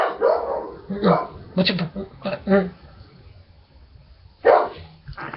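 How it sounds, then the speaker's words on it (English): A dog barks in short bursts at close range, several sharp barks spaced out over a few seconds, with a person speaking between and over them. "what are you barking at?"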